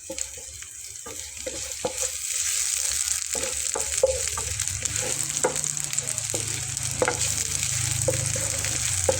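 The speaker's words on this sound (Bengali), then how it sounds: "তো আমি এর ভেতরে এখন কুচি করে রাখা পেঁয়াজটা দিয়ে নিলাম।" Chopped onions go into hot mustard oil. A sizzle builds after about two seconds and then crackles steadily up close, with occasional clinks from a stirring spoon.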